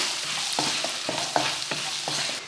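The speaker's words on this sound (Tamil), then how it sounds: "ரெண்டு பெரிய வெங்காயம் கொஞ்சமாக சின்ன பூண்டு ரெண்டு போட்டு வதக்கிடுவோம்" Onions and small garlic cloves sauté in oil in a kadai for a prawn fry, a continuous sizzle punctuated by a regular series of spatula scrapes and taps, close and alone with no voices.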